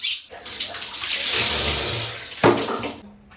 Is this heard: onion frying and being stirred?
no